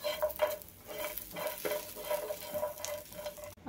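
Coconut, garlic and ginger roast in a pan with rhythmic stirring scrapes over a soft sizzle, close up and without talk, ending abruptly.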